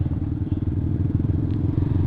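Clutch motorcycle in slow traffic shifting up into second gear, a steady close engine drone with rhythmic pulsing throughout, no voices.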